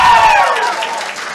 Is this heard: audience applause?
yes